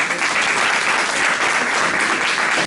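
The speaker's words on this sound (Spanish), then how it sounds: "un fuerte aplauso" An audience at a lecture on Afro-descendant women in nineteenth-century Havana gives the speaker a strong round of applause, loud, dense clapping sustained evenly throughout with no voices.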